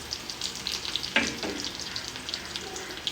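Dried red chilies and curry leaves frying in hot oil for a Kerala moru curry give a steady, close crackling sizzle with a brief louder pop near the middle, and no one speaks.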